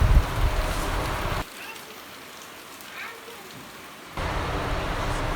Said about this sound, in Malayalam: അങ്ങനെ നല്ല മഴ പെയ്യുന്നുണ്ട്.